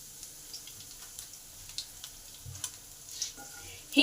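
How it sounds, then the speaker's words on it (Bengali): Nigella seeds, green chilli and asafoetida frying in oil in a pan, a quiet steady sizzle with faint scattered crackles and small stirring clicks, no voices. "কালো জিরে কাঁচা লঙ্কাটা একটু ভালো করে ভেজে নেব।"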